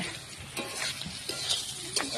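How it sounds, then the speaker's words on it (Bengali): Potato and vegetable-trimming curry frying in a pan while being stirred, a steady close sizzle broken by repeated scraping strokes of the spoon against the pan. "ভাজা হচ্ছে,"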